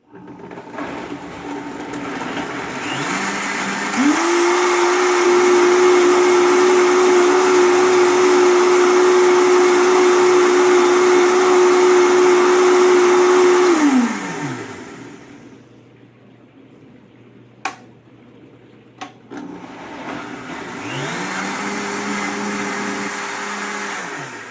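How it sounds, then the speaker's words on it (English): A kitchen blender purls onions for red enchilada sauce, spinning up to a loud, steady whir that holds for about ten seconds and then winds down, followed by a brief lull, a couple of clicks and the motor starting again. "let me get these onions in the blender."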